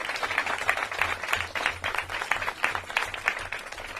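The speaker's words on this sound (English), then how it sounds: "Let's give them a round of applause." Audience applause at a press event with the New York mayor and governor, many hands clapping steadily at moderate distance, with faint voices underneath.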